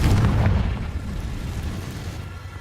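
A fire-blast explosion spell bursts in the video game Hogwarts Legacy, a single loud boom up front that decays into a rumbling, crackling tail over a couple of seconds.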